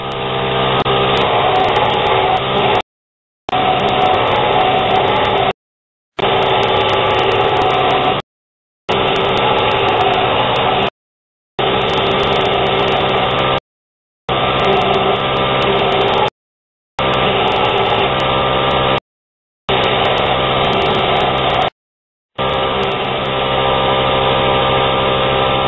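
Bench grinder's small wheel shaping the finger groove of a handmade knife, loud steady grinding in nine repeated bursts of about two seconds each separated by short pauses, with no talk.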